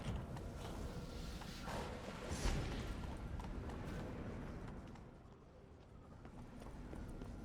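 A donkey's hooves clip-clop in The Witcher 3: Blood and Wine, steady close footfalls over ambient game sound that ease off and grow quieter toward the end.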